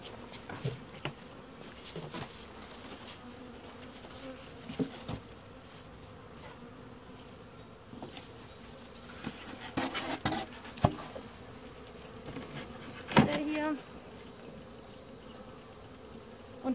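Honeybees hum steadily inside an opened hive during a spring inspection of a nucleus colony, with occasional wooden knocks and scrapes from frames being handled.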